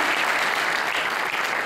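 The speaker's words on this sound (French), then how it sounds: "Maintenant, on les applaudit." A political rally audience at a Quebec election forum breaks into steady, dense applause, loud and sustained throughout with no voices rising above it.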